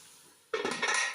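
A metal utensil scraping and clattering against a cooking pot while broiler chicken is stirred, a short burst of close metallic scrapes after a quiet moment.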